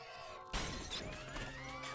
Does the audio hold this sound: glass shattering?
yes